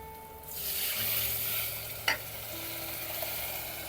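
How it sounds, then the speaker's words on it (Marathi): A loud, steady sizzle of spices tempering in hot ghee, with a brief sharp scrape of a utensil partway through. "तुपात घातली मी हे सगळं फोडणी घातली आहे"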